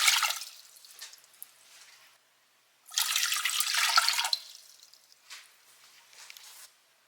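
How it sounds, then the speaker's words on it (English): Water poured from a tap or jug into a cooking pot on a stove, fairly close and clear, in three splashing bursts separated by short pauses, the middle pour the loudest and fullest. "I'm going to add in 2 cups of water."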